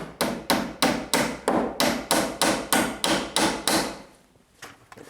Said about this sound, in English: now I'm going to nail a couple of nails into the studs